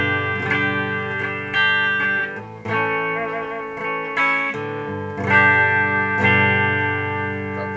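A Peruzzo Anak headless electric guitar plays a run of ringing single notes and chords plugged straight into a Marshall Valve State AVT100 amp, loud and close with short pauses between phrases.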